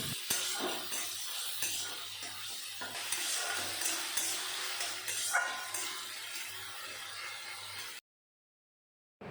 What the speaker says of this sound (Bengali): এই তেলের উপরে নুন আর হলুদ মাখা চিংড়ি মাছগুলো আমি এখন ভেজে নেব